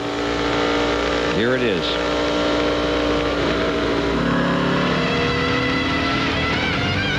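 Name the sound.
Winston Cup stock race cars on track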